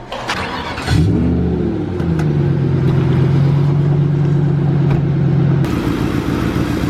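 A 2012 Duramax pickup truck accelerates hard after a brief start, its engine droning loud and steady for several seconds before easing off, close by with no talking.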